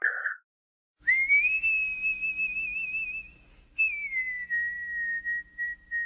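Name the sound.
whistled theme tune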